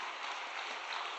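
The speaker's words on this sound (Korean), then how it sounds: "우리 모두 응원과 감사의 박수" Applause from a small crowd gathered outdoors on a cold day in front of a detention centre. The clapping is steady and continuous, muffled, fairly distant and somewhat faint.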